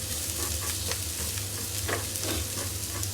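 Onion sautés in hot oil in a pan for pancit guisado, a steady, dense sizzle with occasional soft stirring scrapes, close and continuous throughout.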